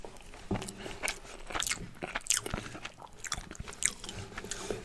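Leberkäse with minced meat in tomato sauce and rice is chewed up close, with soft bites, wet crunches and smacking mouth sounds repeating irregularly at a quiet level.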